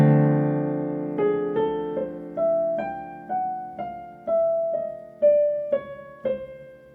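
Solo piano playing a song's intro slowly, a sustained opening chord followed by about a dozen separate notes stepping down one at a time, each struck cleanly and left to ring in a quiet room.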